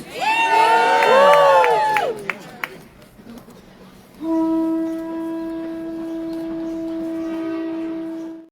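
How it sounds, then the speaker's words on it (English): A crowd at an outdoor ecological city procession in a garden cheers and whoops loudly with scattered clapping, then the noise fades and a sustained tonal hum takes over. "Round of applause for yourselves, everybody!"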